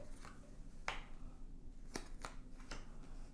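Location cards for the Harsh Shadows board game being shuffled and dealt onto a table in a grid, heard as soft riffling with a few sharp card slaps, close and quiet with no talking.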